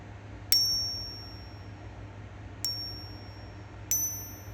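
A coin gives three separate high-pitched metallic rings, each a sharp strike followed by a sustained shimmering tone that slowly decays, heard close and clear over quiet room noise with no talking.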